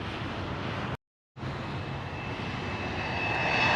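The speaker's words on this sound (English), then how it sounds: "Delta Airline from Burlington." A Delta airliner from Burlington approaches LaGuardia Airport in Queens, its engines a loud, continuous roar that swells slightly toward the end, broken by a short dropout.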